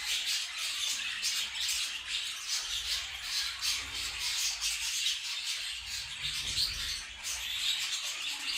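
Young budgerigar chicks in their first feathers squawk and chirp continuously at close range in a breeding setup, a dense, steady chatter of overlapping high calls with no voices.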